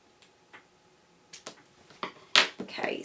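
Scissors snipping through a suede cap for a Grishko pointe shoe, following the curve of the sole, with a few sharp, close cuts that grow louder and denser toward the end.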